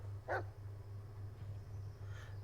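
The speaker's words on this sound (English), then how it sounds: "Listen to his barking and watch his body language." A dog barks once in the Blair Witch video game, a single short close bark over a steady low game hum, then quiet ambience.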